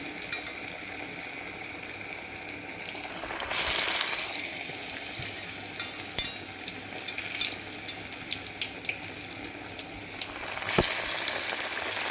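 Banana flower vadas fry in hot oil, a steady close sizzle with a brief louder crackling surge as they are turned over and another near the end as they come out.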